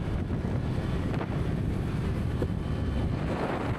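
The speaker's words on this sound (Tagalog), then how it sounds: "Lumalakas bigla yung hangin." Strong wind rushing over a motorcycle rider on the road, a constant roaring buffet with the engine blended underneath, steady and close without speech.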